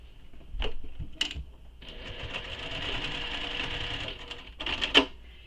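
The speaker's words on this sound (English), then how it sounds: "I'm going to baste these open so that they stay open when we turn that down." Sewing machine basting pressed-open seams on a handmade stuffed toy, running in short bursts and then one sustained steady whir, fairly close and alone with no talk.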